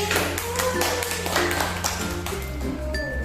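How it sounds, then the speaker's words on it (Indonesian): A primary school class claps for a pupil during a lesson, a short burst of brisk, overlapping hand claps, close and fairly loud, with steady tones sounding underneath. "Beri tepuk tangan untuk Sally."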